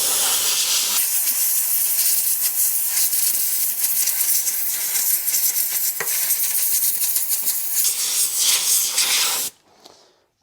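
Compressed air blasts in a loud, steady hiss to blow loose rust off a classic Range Rover V8 during fuel pump replacement, running close and unbroken for about nine seconds before cutting off.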